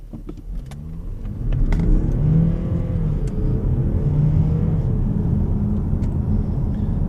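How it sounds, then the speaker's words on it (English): An Audi A7 3.0 TDI quattro diesel pulls hard off the line, its engine rumbling and rising steadily in pitch as the car accelerates, heard from inside the cabin with no talking. "Off the line, the diesel torque is just massive."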